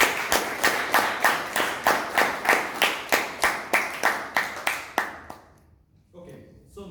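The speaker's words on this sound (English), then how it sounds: "Let us give a big round of applause to all the" A few people clap in a steady, evenly spaced rhythm at a Toastmasters meeting, about fifteen sharp hand claps that stop abruptly near the end, leaving quiet room noise.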